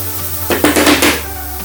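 Chocolate cake baked in an oven toaster being flipped out of its pan onto a plate: a short cluster of clattering, knocking dish and pan sounds lasting about half a second, close and fairly loud against a quiet hum.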